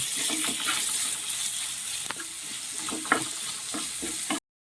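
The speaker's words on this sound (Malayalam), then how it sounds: "ഈ ഉള്ളി ഒന്ന് വേഗം വഴണ്ട് വരാൻ വേണ്ടിയിട്ട് നമ്മൾ ചേർക്കുവാണ് ഇത് നന്നായിട്ട് വഴച്ചെടുക്കാം" Shallots sauté with a pinch of salt in a pan of oil, giving a continuous close sizzle broken by spatula scrapes and stirring clatter, no one talking.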